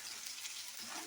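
Green chilies frying in a pan for suji upma, giving a steady, close sizzle that runs without pause under no talk.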